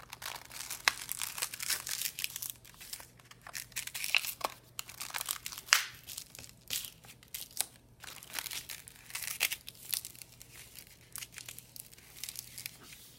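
Sheets of 80 grit sandpaper are folded into strips, giving close, crisp crinkling and crunching in irregular bursts over a faint background hum.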